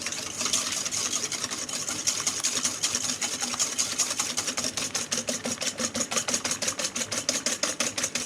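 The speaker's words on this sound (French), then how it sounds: "Je vais bien fouetter l'ensemble." Madeleine sponge batter whisked with an electric mixer, a close, steady mechanical whir with rapid regular clattering pulses that grow more distinct toward the end, with no talk.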